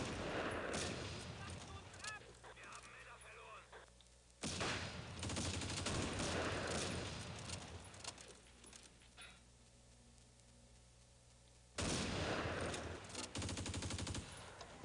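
Gunfire in the Close Combat war game set on Crete, with a German counterattack: bursts of machine-gun fusillade come in loud waves, separated by quieter stretches of distant shooting and battle ambience.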